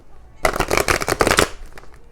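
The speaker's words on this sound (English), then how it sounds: "that was a weird shuffle" Tarot cards shuffled in a quick riffle, a dense crackling burst of papery flutter lasting about a second, close and fairly loud, ending abruptly before quiet.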